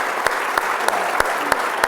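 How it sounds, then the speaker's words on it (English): A short burst of audience applause at a St. Louis Blues event, steady clapping from a crowd, close and fairly loud. "let's do a round of applause there"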